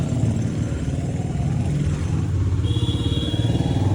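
Motorcycles pass along a village street at night, their engines rumbling and revving close by in an uneven, continuous stream of passing bikes.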